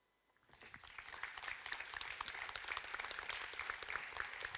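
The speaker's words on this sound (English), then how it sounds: "I don't know if you can hear the round of applause there" An audience bursts into a round of applause after a short silence, the clapping swelling quickly and then holding steady, with individual claps standing out in the dense mass.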